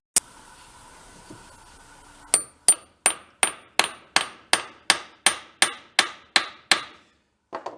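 Hammer blows drive a pin out of a crashed 1979 Chrysler Sno-Runner snowmobile part held in a vise, about a dozen sharp metallic strikes in a steady rhythm after a quiet start, ending with a single lighter tap.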